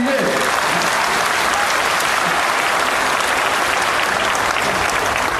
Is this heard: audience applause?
yes